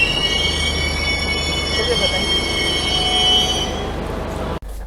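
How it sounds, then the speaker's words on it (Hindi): A train pulls into Sabarmati railway station, its wheels giving a loud, sustained metallic squeal against the rails under a steady rumble that fades near the end, with brief speech in the background. "आपकी ट्रेन साबरमती रेलवे स्टेशन पहुंच चुकी है"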